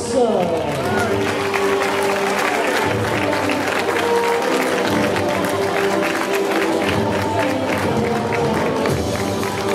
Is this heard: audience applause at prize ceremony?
yes